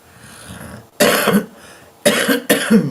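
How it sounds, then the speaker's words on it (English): Three sharp, loud coughs from one person nearby, the first alone and the last two close together, over a quiet room. "pardon my coughing"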